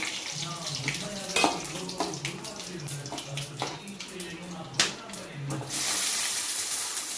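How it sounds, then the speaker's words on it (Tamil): Water pours from a tap into a cooking pot in a steady splashing stream, with knocks and clinks of the pot along the way and a brighter hiss as the flow strengthens at the end. "அதுக்கு தேவையானது திட்டமாக நான் ஊற்றுறேன்."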